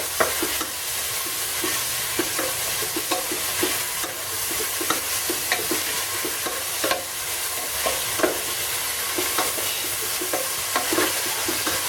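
Sliced onions fry in a pan for Kuttanad-style duck curry, a steady close sizzle broken by repeated scraping and stirring clicks, with no talking.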